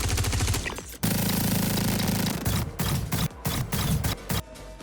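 Star Citizen gunfire: a sustained burst of rapid automatic fire, then a series of separate loud shots and short bursts with brief gaps between them, close and dominant, with no talking.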